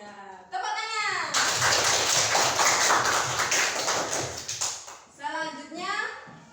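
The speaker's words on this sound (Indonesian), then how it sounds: "Tepuk tangan." Classroom applause, a burst of children clapping that runs for a few seconds, fairly loud and busy, with kids' voices before and after.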